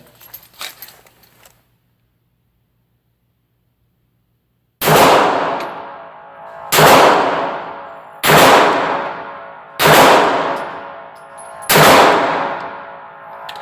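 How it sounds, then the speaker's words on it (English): Five sharp pistol shots from an XD fitted with a Freedomsmith flat-face aluminum tactical trigger, fired at a steady pace with ringing decay after each crack, following a few seconds of silence. "what would a gun video be without a gun going bang?"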